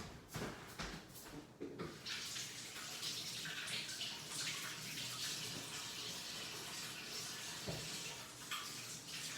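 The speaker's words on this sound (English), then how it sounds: "Let me wash my hands" Hands are washed under a running sink tap, a steady close rush of water with brief splashes and clatter near the start, and no talking.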